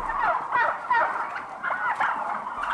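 Domestic turkeys on an intensive turkey farm gobbling repeatedly, several overlapping bursts of rattling calls from a flock nearby, loud and continuous with no talk.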